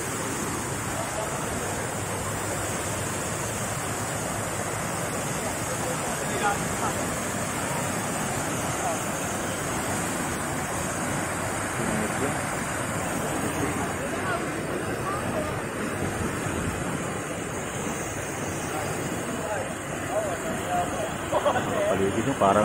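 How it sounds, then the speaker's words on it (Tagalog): Steady broadband rush of falling water at Taytay Falls, a continuous loud roar filling the whole stretch with no pauses. "Dito na sa Taytay Falls."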